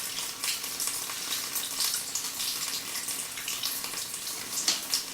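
Water rushing through a residential sewer pipe during a camera scope inspection, a steady hissing, splashing flow that holds at a constant level for the whole stretch, with no one talking.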